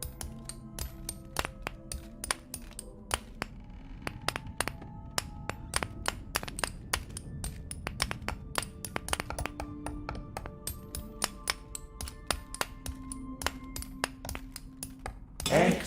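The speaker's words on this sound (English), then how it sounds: "Let the chisel guide you." A chisel carving wood in a video game taps and clinks in a fast, steady patter of bright strikes, with soft background tones and occasional talk.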